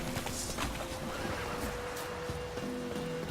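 Roach, the horse in The Witcher 3 video game, gives a steady whinny over a bed of hoof clip-clops and ambient game sound, moderately loud with no talk.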